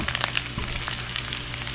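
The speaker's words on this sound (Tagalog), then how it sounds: "Tapos lagyan na natin yung sibuyas." Onions fry in a hot pan with a steady close sizzle and scattered crackling pops, no voices over it.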